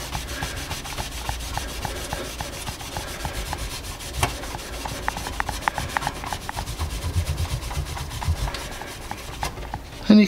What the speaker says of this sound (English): I'll start giving it a bit of a rub